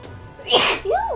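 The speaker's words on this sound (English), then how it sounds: "Oh, I'm gonna sneeze." A single loud sneeze from a character in the video game Metaphor: ReFantazio: a sharp, breathy burst followed by a voiced, wavering tail.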